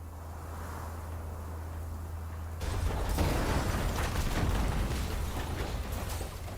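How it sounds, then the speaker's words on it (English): In the game Arknights, a steady low rumble suddenly swells into a loud, grinding crush of walls and metal structures being squashed flat, roaring on without letup. "It's the sound of walls and metal structures being squashed flat."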